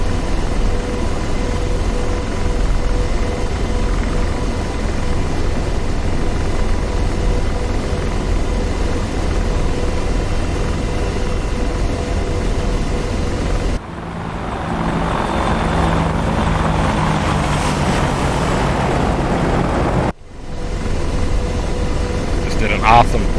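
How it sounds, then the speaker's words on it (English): A jet aircraft roars past in the DCS World flight simulator over the Persian Gulf map, a loud sustained engine rush that shifts abruptly midway. Voices talk over radio throughout. "Did an awesome flyby, nice formation flying on this right turn here"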